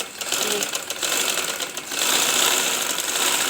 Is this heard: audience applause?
no